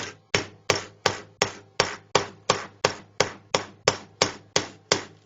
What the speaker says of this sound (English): This is where our hammer comes in handy.